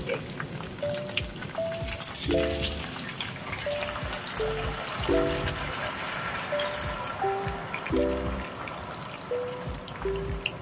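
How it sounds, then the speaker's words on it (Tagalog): Water trickles and splashes steadily into a cooking pot of adobo in a home kitchen, fairly faint beneath background noise and a few short tonal sounds. "Ayan, tubig."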